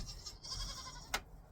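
Goats on a homestead bleating faintly in a short burst, soft nasal calls over low background noise with one sharper cry near the end.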